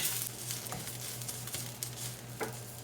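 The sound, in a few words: curry leaves frying in a pan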